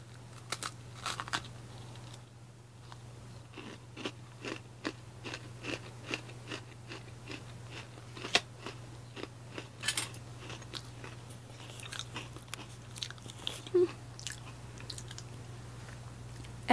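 S'mores-flavored Oreo cookies being bitten and chewed close up, a quiet run of crisp crunches and soft wet chewing that repeats steadily, with no talk over it.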